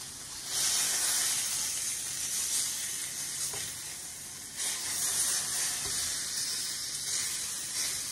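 A steak is flipped in a hot pan and sizzles loudly, a steady hiss that surges twice as the meat turns and settles, with no talking over it.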